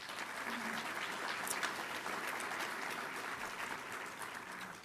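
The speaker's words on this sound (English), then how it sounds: "Let's give these pledges a round of applause." An audience gives a sustained round of applause at a public speaking event, a dense wash of many hands clapping that holds steady throughout, moderately distant.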